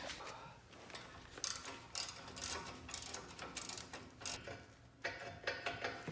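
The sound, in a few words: ratchet removing Torx 50 bolt on Audi Q brake caliper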